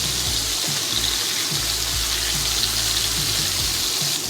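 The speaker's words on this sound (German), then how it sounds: "Dann könnt ihr sie umdrehen und die nächste Seite anbraten" Venison meatballs (Frikadellen) fry in a pan, giving a steady, close, broadband sizzle and crackle that runs unbroken throughout with no talk.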